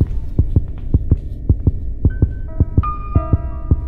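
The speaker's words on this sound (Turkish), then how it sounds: "Bak kalp atışı hızlandı adamın." In the horror video game Granny, a loud thumping heartbeat pulses close, its beats steady and quickening, while sustained tonal hums gradually build underneath.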